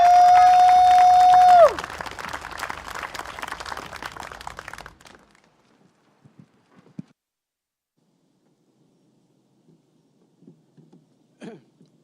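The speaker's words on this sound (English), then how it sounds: "Can we give him a round of applause," An audience at a Singapore Democratic Party election rally for Marsiling-Yew Tee GRC in the 2025 general election claps and cheers loudly over a sustained tone for about five seconds, then abruptly drops to near silence with only scattered faint noises.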